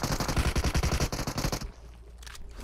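Automatic gunfire in the mobile game PUBG Mobile bursts out as a loud, rapid rattle of shots for about a second and a half, then cuts off into quiet.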